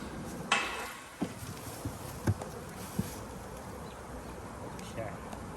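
Honeybees buzzing faintly during a hive install, a soft continuous drone with scattered knocks and clatters of equipment being handled nearby.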